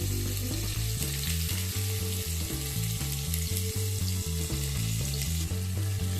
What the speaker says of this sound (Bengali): পেঁয়াজটাকেও হালকা করে একটু ভেজে নিতে হবে